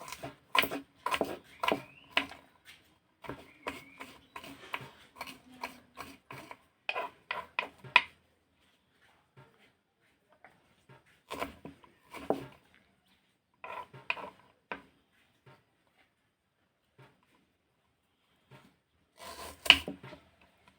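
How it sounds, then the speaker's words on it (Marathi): A knife chopping garlic on a board for a spicy chapati kutake dish, with quick bursts of sharp taps in clusters separated by pauses, close and fairly quiet. "चिरून घेणार आहोत लसूण थोडा जास्त घ्यायचा आहे"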